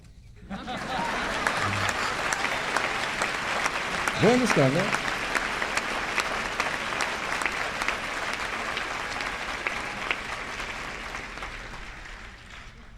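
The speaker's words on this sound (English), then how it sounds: "You can clap." A large audience breaks into sustained, dense applause that swells quickly and holds steady for many seconds, with a brief spoken phrase near the start.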